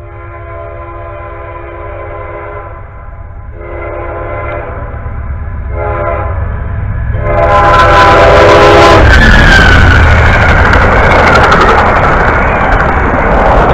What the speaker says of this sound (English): here comes another train. NREC 92, the Silver Star.